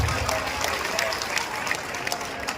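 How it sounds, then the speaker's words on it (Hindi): Audience applause at a grand religious festival gathering with a spiritual leader, a dense crowd clapping in a steady rattle that runs through the whole moment, with voices talking over it. "एक बार ताली तो बजाओ"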